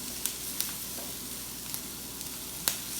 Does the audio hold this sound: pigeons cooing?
no